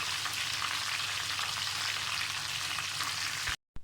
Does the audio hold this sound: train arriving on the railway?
no